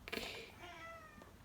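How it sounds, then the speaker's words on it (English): A pet cat meows indoors, a short, fairly faint cry of about a second. "that's my cat."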